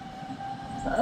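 A train pulls in at a station in Germany, a short, fairly faint rolling hum with a steady tonal whine that swells slightly toward the end.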